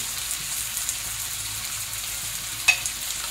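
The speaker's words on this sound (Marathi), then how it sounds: "त्याच्यानंतर हे टाकते मी आलं, लसूण आणि याचं वाटण टाकते, हिरव्या मिरचीचं।" Ginger, garlic and green chilli paste sautéing in a pan, a soft continuous sizzle with light stirring and one brief sharp clink near the end, no voices.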